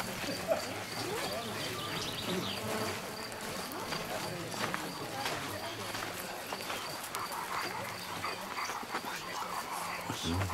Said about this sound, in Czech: Co tam dělá ten pes?